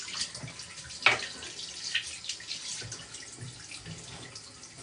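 Steady running water from a tap, a soft continuous rush with a few louder splashes, fairly close and without talk.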